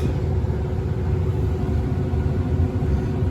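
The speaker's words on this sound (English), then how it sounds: "Blower's on." Furnace blower motor running during a heating cycle, a steady low rumbling whoosh, even and continuous at close range.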